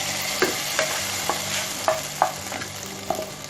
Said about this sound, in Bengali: রসুন, পেঁয়াজ এবং শুকনো মরিচের যে ভাজাটা এটা আমি দিয়ে দিব।